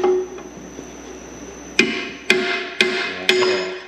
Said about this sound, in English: You can go ahead and pound that out.